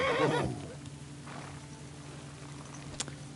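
A horse in the video game Kingdom Come Deliverance 2 gives one loud, close whinny at the start, which trails off into a low ambient hum with a faint click near the end.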